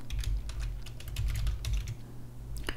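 Typing on a computer keyboard while entering a button name in a Microsoft Access database form, heard as quick, close, clicky keystrokes in a steady burst over a low background hum.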